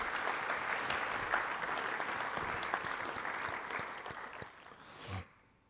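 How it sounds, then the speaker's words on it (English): A secondary school forum audience breaks into steady, dense applause that runs evenly for several seconds, then thins and stops abruptly near the end, leaving a quiet room. "I think we need to give ourselves a round of applause"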